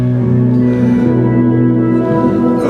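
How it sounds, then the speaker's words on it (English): A guitar plays through a multi-effects pedal set to a phase echo patch, giving sustained, swirling, repeating tones that ring steadily and loudly without pause. "Like here's a phase echo."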